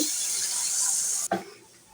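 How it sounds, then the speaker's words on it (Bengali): A loud, steady sizzling hiss from a hot pan of frying ginger and garlic, then an abrupt rush and bubbling as water is poured in, settling quieter afterward. "এখানে আদা রসুনটা ভাজা ভাজা হয়ে গেছে, আমি অল্প করে পানি দিয়ে দিচ্ছি।"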